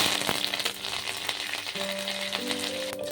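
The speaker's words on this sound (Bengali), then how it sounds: "কারি পাতাগুলো ভাজা হয়ে গেছে" Curry leaves and mustard seeds frying in hot oil give a steady, close crackle and sizzle throughout, with faint tonal hum lines in the background.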